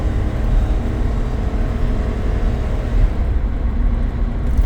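A 2010 E van with a suspect transmission cruises along the road on a test drive, a steady, close rumble of engine and road noise filling the cabin throughout, with no talking.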